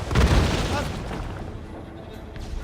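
Ship cannons booming in a naval battle in Assassin's Creed Rogue, a heavy rumbling blast up front that rolls into a long low roar and crackle, with shouted voices mixed over the din.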